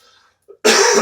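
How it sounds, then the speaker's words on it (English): A single harsh, loud cough bursts out close by after a brief soft throat sound, rasping for about half a second before trailing off. "Man, this cough is so awful."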